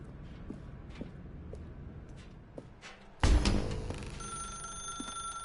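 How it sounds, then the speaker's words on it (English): An old-fashioned telephone rings suddenly and loudly in The Stanley Parable video game, breaking in after quiet ambience and continuing as a sustained bright ring. "Now pick up the phone."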